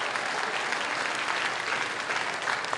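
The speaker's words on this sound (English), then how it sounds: "Give him a round of applause." A crowd claps steadily for a few seconds, a dense and even patter of many hands at moderate volume with no voices over it.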